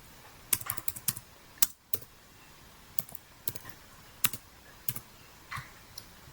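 Someone types the ipconfig/all command on a computer keyboard, a run of crisp, separate key clicks in uneven bursts, close and clear over a quiet background.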